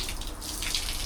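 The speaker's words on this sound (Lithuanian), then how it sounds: "Čia dušas irgi nėra toks" Water runs steadily from a shower in a bathroom in Mexico, a continuous broadband hiss and splash lasting about a second with no voices over it.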